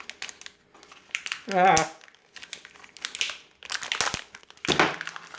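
A Cadbury chocolate bar wrapper is pulled open with one hand in bursts of loud, close crinkling and crackling foil and paper, separated by short pauses, with a brief vocal exclamation.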